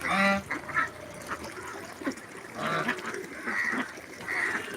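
Ducks quack and honk in short nasal bursts, loud and close, with a few overlapping calls from a small flock kept near water.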